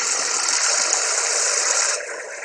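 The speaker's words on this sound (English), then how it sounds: "I'm putting in enough water to cover the blades" Water gushes steadily into a blender bowl to rinse it, a loud continuous rushing pour that drops in level and changes tone near the end as the bowl fills.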